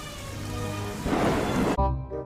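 Steady hiss of rain falling on a surface, fairly loud and continuous, that cuts off abruptly near the end.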